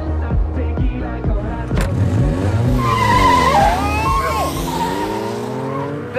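A car skids and squeals its tyres during stunt driving, with engine roar and long swooping tire screeches over several seconds, loud and close, with a sharp bang partway through.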